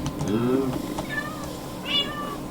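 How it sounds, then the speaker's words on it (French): Cats meowing in the Minecraft AnimalBikes mod, a few short game-style meows close up, with a higher mew near the end. "3 autres chats qui apparaissent en fait"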